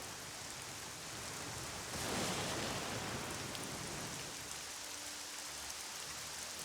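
Steady rain falling in the Battle Realms strategy game, a dense, even hiss that swells slightly for a few seconds, with no voices.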